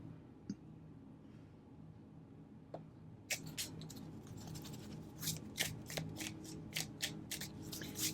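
A deck of oracle cards shuffled close by, quiet at first with a few soft taps, then a rapid run of crisp riffling flicks for the last few seconds.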